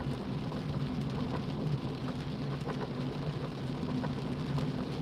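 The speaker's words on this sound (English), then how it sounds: "So yeah, the rain has arrived." Steady, heavy rain hisses continuously and evenly throughout, a dense wash of falling water with no voices.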